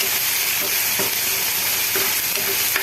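Ginger garlic paste frying in a hot pan on a stove for a hotel-style chicken curry, giving a steady, loud sizzle and hiss with occasional stirring scrapes, no voices.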